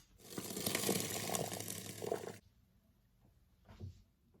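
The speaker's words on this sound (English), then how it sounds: "Okay, so our rice are done now, and I'm going to drain this." Water from a pot of boiled rice pours out in a steady, close rush for about two seconds, then stops, followed by a faint clunk and a few quiet kitchen sounds.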